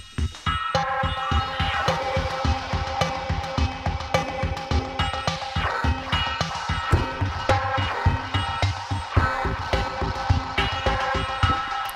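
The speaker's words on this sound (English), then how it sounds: "This is using the flute and the water phone and the alto harmonics" Synthesizer patch layering flute, waterphone and alto harmonic samples into a dense, shimmering bell-and-wind texture, with continuous plucked chimes and sustained tones playing steadily at moderate loudness without any voices.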